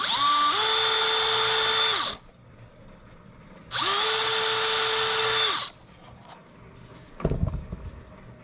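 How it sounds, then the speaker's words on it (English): Two long whining bursts of a power drill boring into a tape dispenser, each a couple of seconds, separated by a quiet pause, followed by light clicks and knocks. "Just gonna go ahead and drill in."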